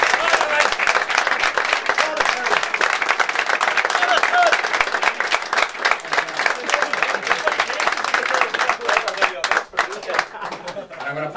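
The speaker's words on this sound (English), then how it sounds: "I want to give them a big round of applause and good luck in the next season" Supporters' club audience applauding the players at a club gathering, a dense, sustained round of clapping lasting the whole stretch with a brief dip near the end, close and loud, with some crowd noise mixed in.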